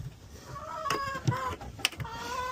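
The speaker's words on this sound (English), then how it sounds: "I just love having chickens." Backyard hens cluck softly and irregularly at close range, a few separate calls rising and falling against a quiet background, with one sharper squawk near the end.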